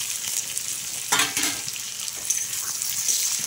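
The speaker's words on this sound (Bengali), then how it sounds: "পেঁয়াজের সাথে অল্প একটু ভাজলেই হয়ে যাবে।" Boiled potatoes frying with onions in a pan, a bright steady sizzle with a louder scraping stir near the middle and light clinks, no one speaking.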